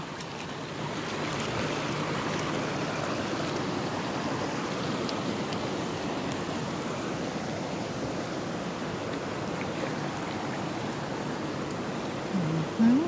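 Continuous rushing of flowing stream water, a steady broadband wash close by, with a short bump of handling noise at the end.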